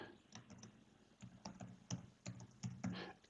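Irregular bursts of computer keyboard keystrokes as a short note is typed, soft and close, with brief pauses between clusters of clicks and a sharper tap at the end.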